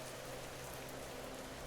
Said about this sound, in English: Wow, look at these rain effects.